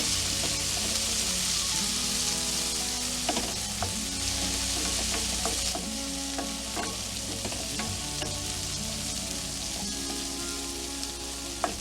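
Pea and bacon sauce cooking in a pan, a steady close sizzle and bubbling with occasional stirring clicks and scrapes, no voices.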